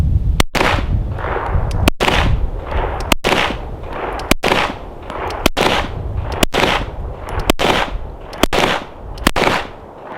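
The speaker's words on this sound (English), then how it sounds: "And then I'm going to go ahead and shoot." Handgun fired with a two-handed grip at a range, nine or so sharp, loud shots spaced roughly one second apart, each followed by a brief echoing tail.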